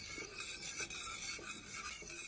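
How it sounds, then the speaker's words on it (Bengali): A spoon stirs boiling milk with grated coconut in a pot for palmyra palm ice cream, giving soft repeated scraping strokes over a low bubbling hiss that stay fairly quiet. "এখন আমি নেড়ে চেড়ে জাল করে নিব।"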